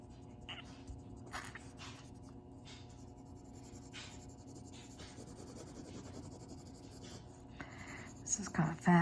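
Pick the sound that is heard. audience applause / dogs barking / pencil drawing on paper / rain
pencil drawing on paper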